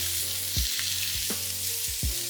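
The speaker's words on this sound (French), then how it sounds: "Avec la fourchette, je vais l'écraser un peu dans la poêle." Sausage meat frying in a pan gives a loud, close, steady sizzle, with three or four low thumping scrapes as a fork mashes the meat against the pan; no talking.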